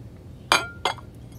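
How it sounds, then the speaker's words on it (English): A drinking glass of water set down on a plate on the floor, giving two sharp, close glassy clinks about a third of a second apart against a quiet background. "You're going to want to place a plate on the floor."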